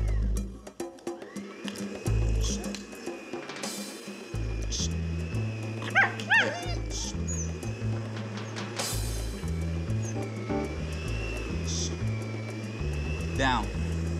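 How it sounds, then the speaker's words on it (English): A vacuum cleaner runs with a steady droning whine throughout, while a Chihuahua barks and yips sharply over it and voices talk nearby. "So I'm gonna vacuum"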